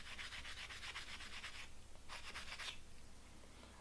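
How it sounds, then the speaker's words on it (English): A coarse eraser scrubs rust and grime off the spine of a knife blade in quick back-and-forth rubbing strokes, close and steady, with a short pause midway before another burst of scrubbing. "with the coarse eraser, I was able to get most of that stuff off of there."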